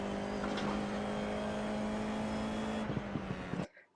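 Formula IR-04 race car engine at Tsukuba in iRacing, a steady high-pitched drone held at constant revs, then a few brief shifts or bumps before it cuts off abruptly into silence.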